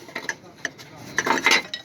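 A 17 mm spanner is fitted onto the engine pulley of a Suzuki Mehran car, producing a few short, sharp metallic clinks and scrapes close by, scattered irregularly with a brief cluster near the end.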